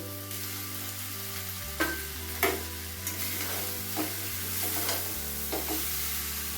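Boiled chicken chowmein noodles are stirred in a pan over low heat, with a soft steady sizzle and several distinct scraping strokes of the spatula at irregular intervals.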